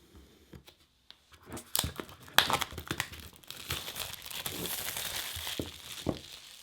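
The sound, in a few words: peeling plastic wrap off HomePod mini box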